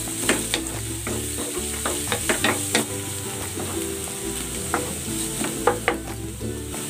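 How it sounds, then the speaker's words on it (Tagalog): Garlic sautéing in a pan, a continuous sizzle with scattered sharp pops and the scrape of stirring, close and steady throughout. "igigisa ko na tong bawang"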